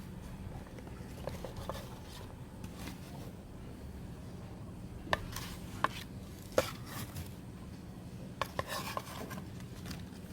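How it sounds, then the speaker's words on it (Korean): Potting soil scraped and dropped into an anthurium pot, giving soft rustles and a few sharp scoops and taps against the container, close and fairly quiet over a low background hum. "그리고 일단 토양을 넣겠습니다."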